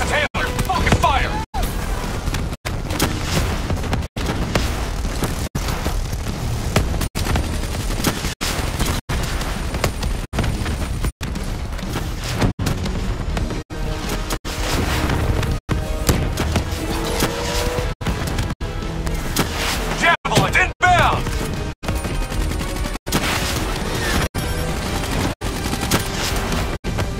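Sustained rapid gunfire and automatic weapon bursts from a Black Ops 3 campaign battle, loud and nearly continuous with sharp gaps, mixed with shouted voices and game effects.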